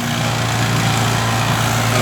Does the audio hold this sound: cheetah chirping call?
no